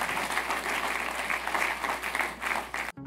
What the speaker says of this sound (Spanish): Denle un aplauso al Rey de Reyes y Señor de Señores